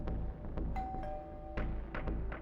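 A doorbell rings inside a house at night, a few bright chimes with a sustained tone in the middle, standing clear of the background with no voices.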